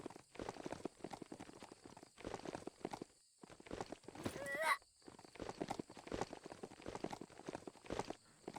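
Robotic horse hooves clip-clopping in a rapid galloping rhythm in the video game Biomutant, close and fairly loud, with a brief pause and a short whinny-like burst partway through.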